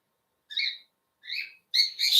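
A pet bird of a species that lives wild in Australia gives three short, bright chirping calls, each under half a second with gaps between, close and clear against silence, the last call doubled.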